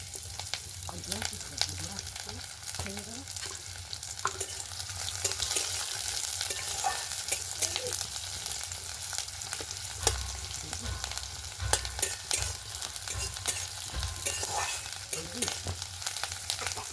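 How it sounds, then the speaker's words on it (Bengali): Chopped onions fry in oil with a little panch phoron in a pan, giving a continuous close sizzle and crackle with frequent scraping stirs and soft clicks from a utensil throughout, with no talking. "পেঁয়াজগুলো ভালো করে ভেজে নেব।"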